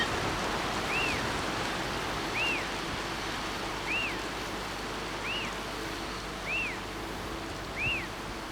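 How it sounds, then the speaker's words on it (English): Steady hiss of a rainstorm in elk country, close and even throughout, with a faint bird call repeating about every second and a half in the background. "Pretty good little rainstorm coming through."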